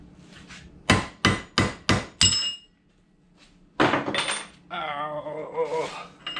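Sharp metallic hammer blows on a brass punch driving parts out of a 14 bolt axle, five quick strikes in a row, then a pause, another heavy hit and a ringing, scraping clatter close by.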